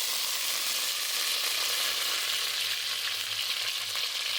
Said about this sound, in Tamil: கடுகு உளுந்தம் பருப்பு நல்லா பொரிஞ்சதும் வெங்காயம்